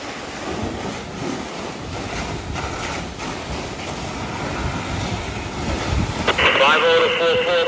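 Strong wind buffets outdoors at a major multi-alarm fire in vacant dwellings, a dense continuous roar with gusting rumble that grows louder near the end, where a faint radio tone cuts in.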